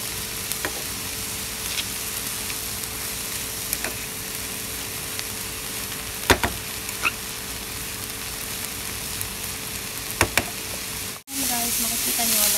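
Onions fry in a pan with a steady hiss and crackle after water goes in, with a few sharp knocks of a utensil and a sudden louder surge of sizzling near the end.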